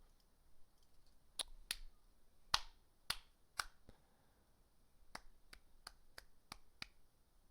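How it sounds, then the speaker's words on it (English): Single person clapping at a desk, sharp, isolated claps in an irregular pattern, a few scattered early then a quicker run of about seven near the end, close and quiet against a faint room background. "I'm clapping, by the way."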